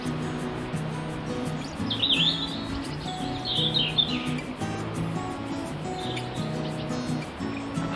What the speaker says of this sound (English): I can hear a jay calling as well as the robins.